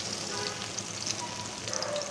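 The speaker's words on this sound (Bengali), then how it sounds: "আমি এটা এখন ভেজে নিচ্ছি তেলে" Bora fritters made with jali leaves deep-frying in hot oil give a steady, close crackling sizzle with scattered bubbling pops, continuous throughout.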